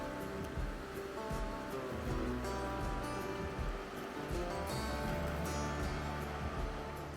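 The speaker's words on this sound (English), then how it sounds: "Logan, with the river in the background." A river rushes steadily past a wooded campsite on the Idaho backcountry route, a continuous broadband wash of water with no breaks, fairly faint and even throughout.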